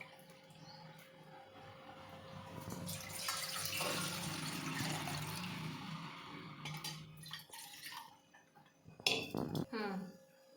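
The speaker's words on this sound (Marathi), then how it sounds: "त्याच पातेल्याने आता 2 पातेले पाणी घेणार आहे" Water poured from a small pot into a cooking pot for rice-flour papad batter, a steady splashing pour lasting several seconds, followed by a few clinks and knocks of the vessels; no speech.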